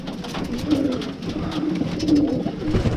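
Pigeons cooing in low, soft repeated calls close by, over a steady background murmur of a busy coop.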